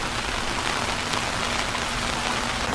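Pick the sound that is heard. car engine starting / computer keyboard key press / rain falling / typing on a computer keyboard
rain falling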